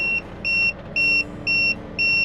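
A vehicle tire pressure monitor alarm beeps five times in a steady rhythm as it picks up a trailer, each tone clear and bright over a low rumbling background.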